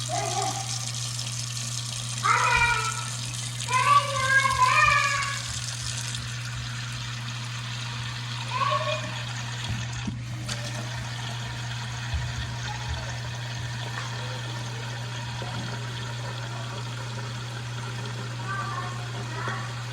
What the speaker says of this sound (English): I'm finna pour the water for my noodles.